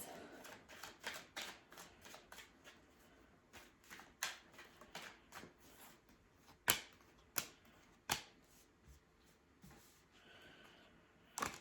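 Tarot cards are shuffled and pulled from the deck, making soft, crisp flicks and papery rustles close by. The sound is quiet and irregular, with a few sharper snaps scattered through it, and no one speaks.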